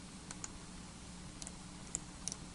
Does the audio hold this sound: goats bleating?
no